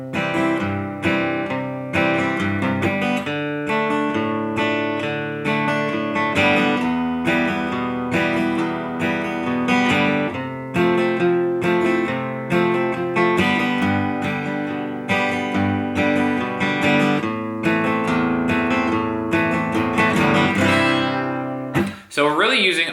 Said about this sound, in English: tightening up your picking around open chords and using alternate bass notes